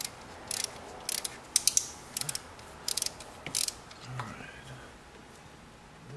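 Ratchet with a 6-point socket loosening tight 10mm bolts on a BMW 3 Series valve cover, heard as several short bursts of quick clicks, close and sharp, followed by faint rustling and a quiet voice.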